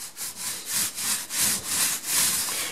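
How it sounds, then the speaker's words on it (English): Paint roller spreading cinema screen paint over raw, unprepped drywall, a close rhythmic swishing with about eight back-and-forth strokes in under three seconds, alone. "this right here is our Luminous Ambient Light Rejection Cinema Paint, which I'm rolling on right now"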